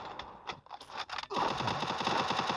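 A UMP fires in a shooting video game: a few sharp early shots, then a sustained, rapid burst of automatic gunfire close and loud; no talking.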